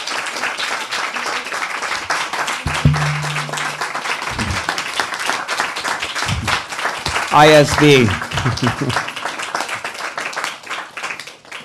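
An audience at a Hare Krishna religious talk applauds with dense, steady clapping, while a few voices speak briefly over it.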